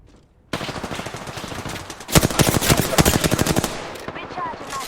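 Rapid automatic gunfire from the video game Apex Legends, loud and continuous with dense, evenly spaced bursts that intensify midway before tapering into a softer tail.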